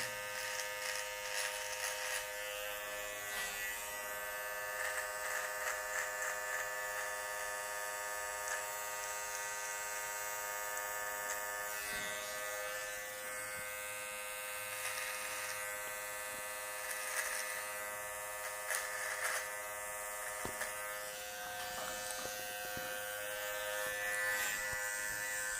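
Electric hair clipper trimming a beard line and neckline, buzzing steadily and close up for the whole stretch with slight changes as it moves across the hair.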